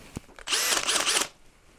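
A power drill fitted with a sanding brush disc runs briefly against the edge of a birch tabletop, a loud whirring grind lasting under a second with slight rhythmic wobble, preceded by a faint click.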